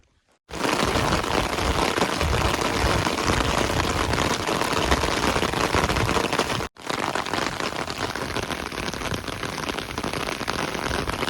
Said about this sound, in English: It's raining out there, but we're staying dry here.